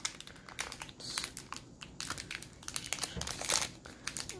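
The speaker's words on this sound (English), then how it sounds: "So let's open this Pokemon pack." Crinkly foil wrapper of a Pokemon card pack crackles and tears in irregular close bursts as it is pulled open, with no talk.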